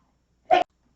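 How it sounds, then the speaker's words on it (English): A single sharp sneeze, short and close, bursting out of near silence. "I'm going to sneeze again"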